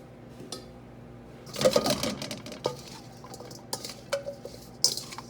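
Potatoes tossed and agitated in a pan as ghee melts down, giving intermittent metallic scrapes and rattling clatters in a few loud bursts, with a quiet background hum between them.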